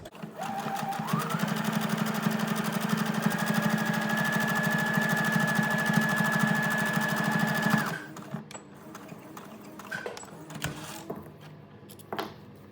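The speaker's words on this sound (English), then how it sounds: "I'm going to stitch really close to the edge just to secure those seam lines." Sewing machine stitching close to the edge of a fabric face mask to secure the seam lines; one steady, loud whirring run of about eight seconds at close range, then it stops and quieter handling noises follow.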